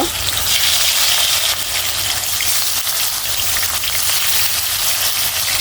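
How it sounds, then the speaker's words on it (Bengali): Rohu fish frying in mustard oil in a kadai, a loud, continuous close sizzle and crackle like heavy rain, with no one talking. "আমি সরিষার তেল দিছি আমি এখন মাছগুলো দিয়ে ভেজে নিব"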